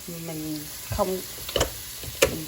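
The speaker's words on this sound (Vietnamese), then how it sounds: "dầu nó hơi sôi như vậy, bạn cho vào đây 1 muỗng ớt, mà cái loại ớt mà mình chỉ bạn, ớt Korea ha, cho vào đây" Korean chili flakes hit hot oil with ginger and garlic for chicken rice, making a soft continuous sizzle with a few sharper crackles and stirring knocks, while a voice speaks briefly over it.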